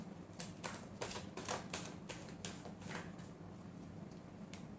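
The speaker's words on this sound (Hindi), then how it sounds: "last shuffle" Tarot cards are shuffled by hand, a quick run of soft riffling flutters and taps, close and quiet, with no talking.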